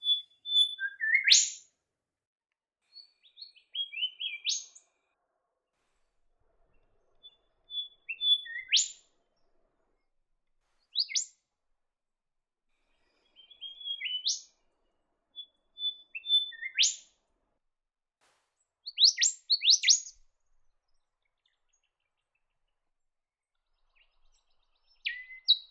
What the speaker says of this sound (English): Another beautiful bird found in the region in forests and woodlands is the golden